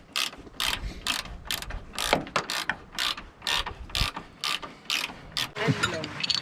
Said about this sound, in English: Bolt being tightened.